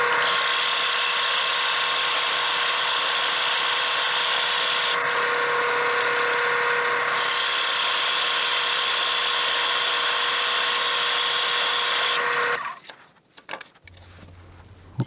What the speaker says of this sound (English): Now we'll just drill as much out as we can